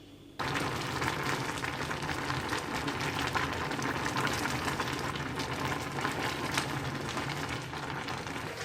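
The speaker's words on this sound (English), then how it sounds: "I've added a little bit of salt. I'm going to boil it and then use it for the stew." A pot of salted kidney beans boils in water, giving a steady, close bubbling and hissing that runs unbroken at moderate loudness.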